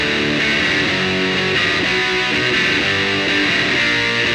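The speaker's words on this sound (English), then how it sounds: "I'll show you the DS1 layer first, which sounds like this." Heavily distorted electric guitar through a DS1 distortion pedal plays a sustained, saturated riff with buzzy, gritty tone, loud and continuous with no talking.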